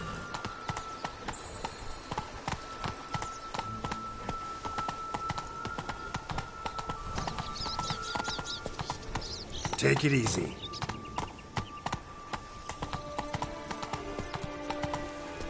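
A horse gallops with a steady, rapid clip-clop of hooves in The Witcher 3: Blood and Wine, running continuously under game ambience, with a brief spoken line partway through.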